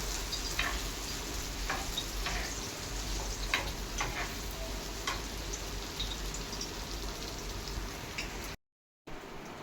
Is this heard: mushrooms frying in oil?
yes